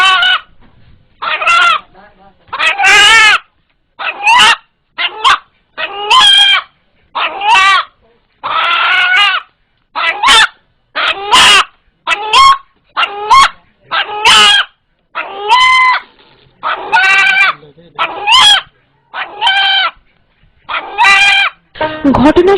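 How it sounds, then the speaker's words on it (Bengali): A frightened pet rooster calls out in a long series of loud, close, repeated crowing cries with short gaps between them, and a dog barks at times. "ভয় পেলে মোরগটি যেভাবে ডেকে ওঠে"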